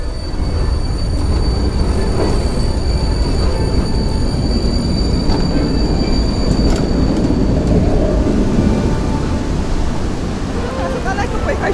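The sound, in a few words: tram running on rails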